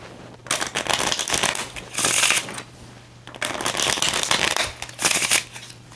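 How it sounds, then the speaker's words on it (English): Playing cards are riffled loudly and close by in two long shuffling bursts, each ending with a sharp bridge-like flutter, no voices. "Get a couple good shuffles in here."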